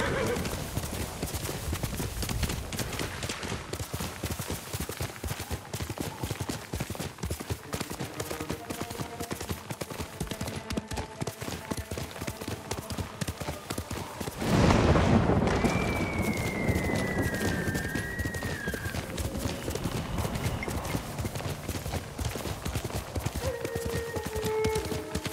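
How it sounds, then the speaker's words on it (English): A horse gallops in the video game Ghost of Tsushima, its hooves drumming in a steady, fast clip-clop throughout. A whinny rises partway through over a light rain-like wash. "You're a good horse, Noble."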